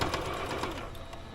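A sewing machine runs slowly and steadily, stitching while extra fabric is eased in, a close, continuous whirring hum with faint regular ticks of the needle.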